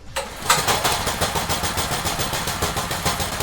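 A gas engine rigged to power a PC cranks and catches, then runs at a steady, rapid, throbbing idle. It is close and fairly loud, with no talking.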